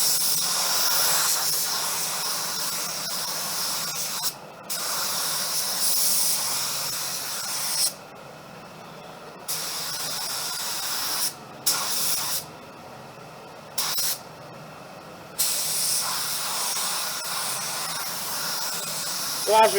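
A Walcom spray gun lays down Glasurit 90 line car paint in a loud, close, steady hiss, broken into passes by several short silent gaps where the trigger is released.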